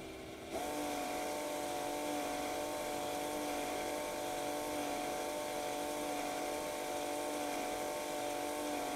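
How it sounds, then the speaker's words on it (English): A small Bosch drill spins up and turns over a Tangye model steam engine by its crankshaft, a steady high-pitched motor whine with mechanical clatter that holds even and close for several seconds. "I've connected my small Bosch drill to the crankshaft and now I'm going to turn over the engine and see what happens."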